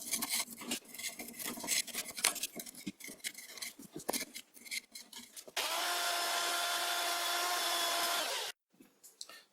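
An antique Karger metal lathe cuts with scraping, ticking tool chatter, then settles into a loud, steady high whine and hiss for a few seconds before stopping abruptly, followed by brief faint scraping.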